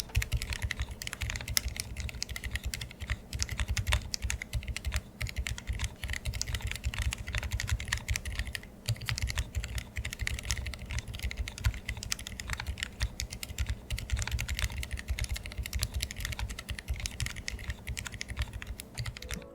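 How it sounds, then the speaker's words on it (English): A Monsgeek M2 mechanical keyboard is typed on continuously for about twenty seconds, producing dense, even, close-up key clacks and thocks with no talking. "what I'd like to do is go ahead and jump into a sound test"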